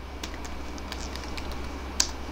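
Keys clatter on a computer keyboard while a fastboot command is entered, light scattered taps at an uneven pace with one sharper click near the end, over a quiet background hum.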